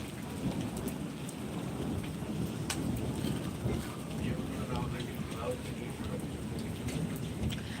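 Rain falls steadily in Kashmir during a thunderstorm, with rolls of thunder rising over a constant patter and a voice faintly present underneath.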